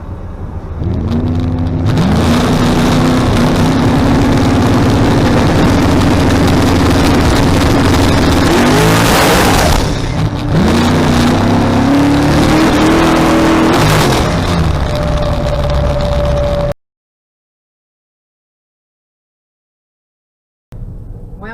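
A drag race car launches, its engine roaring at full throttle, revving in bursts with a rising whine as the tires spin off the line, then cuts to silence before a fainter rumble returns.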